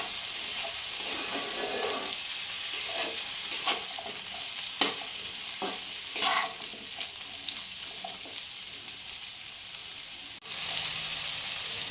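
Lentils, pumpkin and potato frying in a pan for Bengali sabudana khichuri, a steady close sizzle with scattered stirring scrapes and small pops throughout, no talk.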